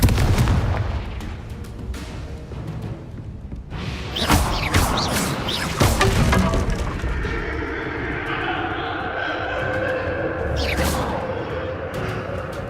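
Repeated Confringo fire spells blasting in Hogwarts Legacy, with booming explosions and crackling bursts in quick succession, the loudest around the middle, over a constant rumbling game backdrop.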